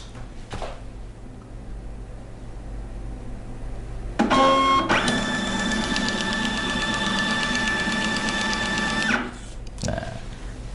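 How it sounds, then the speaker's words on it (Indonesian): A Kassen E460 barcode label printer runs a label job over an Ethernet connection, with a brief mechanical whir and then a steady, loud electric feed hum lasting several seconds before stopping, close up against a low background hum. "kita akan tes print sekali lagi menggunakan koneksi Ethernet ya. Kita print semua halaman ini."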